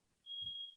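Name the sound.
smoke alarm beeping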